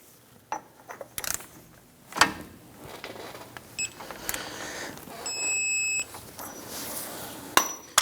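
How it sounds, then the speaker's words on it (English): A torque wrench tightening the axle nut on a 1997-2006 Jeep Wrangler, with irregular metallic clicks, ratcheting and clanks scattered across the clip, a few sharp louder knocks, and a short steady tone partway through. "go ahead and torque down the axle nut"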